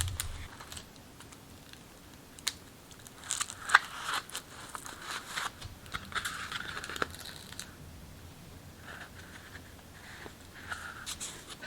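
Paper pieces of a unicorn mask pattern being taped together give soft, close crackles, tape rips and sporadic tapping, irregular and fairly quiet throughout, with no talking.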